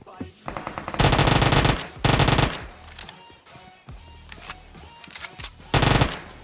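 Automatic gunfire in the mobile battle royale game PUBG Mobile comes in loud, close bursts of rapid shots, separated by quieter stretches holding scattered single shots and game noise.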